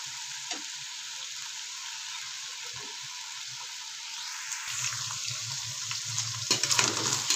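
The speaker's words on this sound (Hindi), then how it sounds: "8 से 10 मिनट तक तकरीबन ये अरबी फ्राई होने में लगती है।" Taro (arbi) pieces fry in oil with a steady, fairly quiet sizzle, and a fuller bubbling crackle builds in the last seconds with a few stirring sounds.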